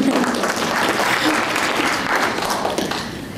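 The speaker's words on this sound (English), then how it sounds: "let's give her a round of applause" Sustained applause from a presentation audience welcoming a volunteer to the front, even and moderately loud, tapering off slightly toward the end.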